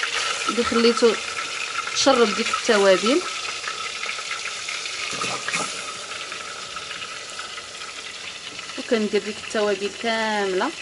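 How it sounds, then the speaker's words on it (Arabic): Meat frying in about four glasses of oil with spices, covered with a layer of spiced onion, sizzles as a steady crackling hiss beneath a woman's speech throughout. "كنعاود نحط هذيك البصله من فوق اللحم، وكنخليه حتى كيتقلى لمده ربع ساعه"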